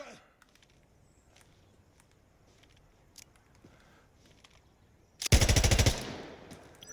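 An HK21 machine gun fires in the video game Insurgency Sandstorm, a loud, rapid burst of close automatic fire lasting about a second after quiet, faint handling noises.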